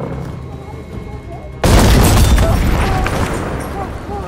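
Artillery fire in the Battlefield V shooter: a sudden loud boom at about the midpoint, followed by a sustained roar of blasts and rumbling debris over game ambience, after a quieter stretch.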